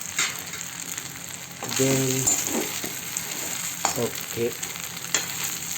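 Idli being stirred in hot oil in a pan, a steady close sizzle and fry with scraping stirs, while a voice says a brief word.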